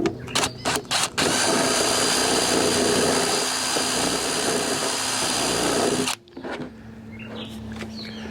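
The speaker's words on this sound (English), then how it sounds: "So you need to drill a hole in this side." A power drill whirs at high speed for several seconds after a few short trigger bursts, then cuts off abruptly, leaving a faint hum.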